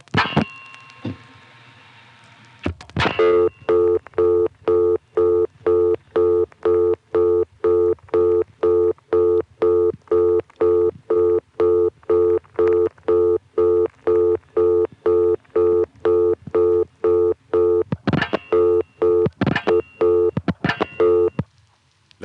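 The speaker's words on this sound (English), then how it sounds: "That is meant to be a reorder." A 1970s step-by-step telephone exchange in Rawlinsville, Pennsylvania plays a reorder tone, a fast, even run of loud identical beeps that repeats for about fifteen seconds after some switching clicks.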